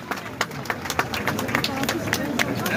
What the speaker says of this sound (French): Applaudissements, s'il vous plaît, pour cette rame inaugurale du tram-train du 12.